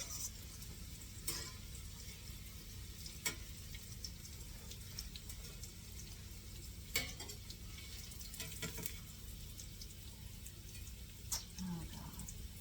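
Eggplant slices fry in a pan with a low, continuous sizzle, broken now and then by faint clicks and scrapes of a utensil, heard close but quiet.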